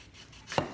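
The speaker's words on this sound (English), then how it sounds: "So I'm just going to cut this." A knife cuts through raw chicken wings on a kitchen board, a single short chop thudding close by after a moment of quiet.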